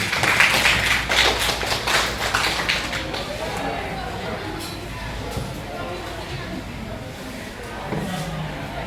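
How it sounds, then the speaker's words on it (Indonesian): A school class applauds a student with a burst of dense, close clapping that fades after about three seconds into quieter room noise and murmuring voices. "kita kasih aplaus pada Sabina dulu"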